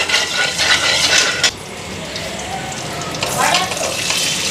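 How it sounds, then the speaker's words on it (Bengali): Raw paneer frying in hot oil, a steady broad sizzle that runs throughout, loudest at the start and again near the end, with faint stirring or utensil sounds mixed in. "কাঁচা পনির রাখতে লাগে তেলের মধ্যে দিয়ে দিলাম"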